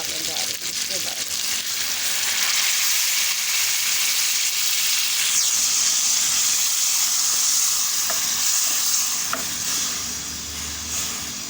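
Water hits a hot pan of cooking tinda masala, setting off a loud, steady sizzle and hiss that holds for several seconds, with faint stirring and scraping beneath.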